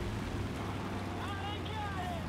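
Droning piston engines of a PB4Y-2 Privateer bomber in War Thunder, running overheated, form a steady low rumble throughout, with a voice talking over it.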